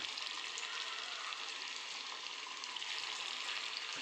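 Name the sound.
corn tikki deep frying in oil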